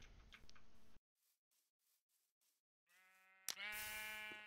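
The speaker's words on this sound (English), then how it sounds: "Sheep." Sheep in the Minecraft video game give two or three bleats near the end, close and fairly loud, after a stretch of soft, regular footstep-like ticks and a short burst of game noise at the start.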